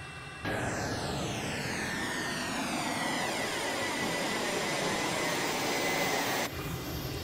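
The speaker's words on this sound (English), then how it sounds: "We are now ready for takeoff, so let's go for it." A simulated M-346 jet in Microsoft Flight Simulator spools up and rolls for takeoff, a loud, steady engine roar with a rising whine that holds for about six seconds before cutting to a quieter tone.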